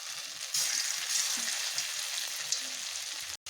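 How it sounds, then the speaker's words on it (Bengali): Paneer pieces fry in oil in a wok, giving a continuous close hiss and crackle with small clinks, then a brief cut at the end; no voices. "এবার আমি পনিরগুলোকে ভেজে নেব"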